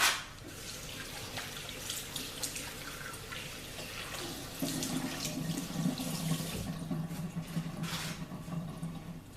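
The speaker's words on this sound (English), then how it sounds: "let me wash my hands right quick" A tap runs steadily into a sink while hands are washed under it, with the water's hiss and splatter continuing close by throughout and growing slightly fuller partway through.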